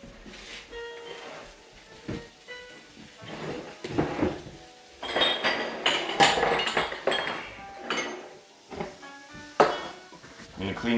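Dishes, pots and utensils clink and clatter close by in irregular bursts, getting busier midway, with quiet talking now and then.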